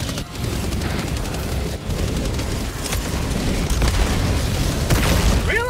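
Sustained ray gun fire in Helldivers 2, a dense, loud, continuous barrage of booming blasts and crackling bursts, with no voices over it.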